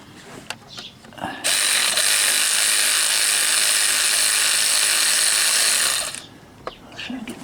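A ratchet wrench clicks steadily and loudly for several seconds while bolts come off a car engine during alternator, H-pipe and starter removal, with brief handling knocks before and after.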